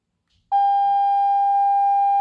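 A Redmi Note 8 phone speaker plays its dust-cleaning tone, a loud, steady pure electronic whine with faint overtones that starts abruptly and holds unchanged for nearly two seconds before cutting off.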